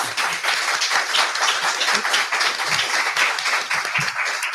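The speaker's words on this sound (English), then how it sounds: "We'd like to give our candidates a big round of applause." An audience at a city council candidate forum gives the candidates steady, moderately loud applause, dense clapping that continues without a break.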